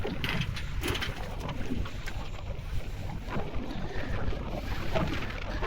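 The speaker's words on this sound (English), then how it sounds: "It is windy." Strong wind in Northport, Long Island, New York roars steadily across the microphone, a constant buffeting rush with gusts swelling and easing throughout, no voices.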